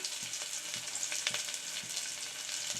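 Whole spices and bay leaves sizzle steadily in hot oil in a pan for a raw banana flower biryani, a continuous bright frying hiss with faint stirring clicks, close and alone.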